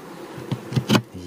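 Honeybees buzzing near a packaged apiary hive on a cool autumn day, a few brief close buzzing passes rising and fading one after another over a quiet background.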